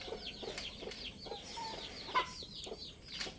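Chickens of a Thai fighting-cock breed, kept in the hatching season, cluck in quick repeated notes nearby at low volume, with a few sharper calls mixed in.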